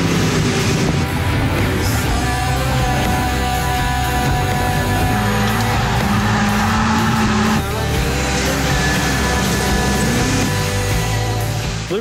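An off-road race car runs on a dusty dirt track at half throttle, its engine roaring steadily and loudly with continuous broadband rumble and road noise and no pauses throughout.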